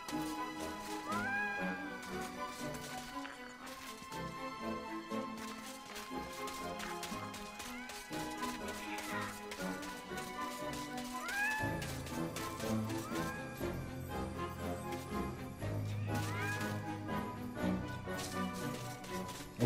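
Cats meowing in the video game MediEvil, several rising and falling meows spaced over game music that keeps playing steadily underneath.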